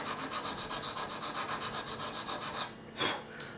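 Wet-and-dry abrasive paper rubbed back and forth over the thick steel blade of a cheap ruling pen, a steady rhythmic rasping scrape of quick even strokes, close and clear, stopping near the end with one last brush.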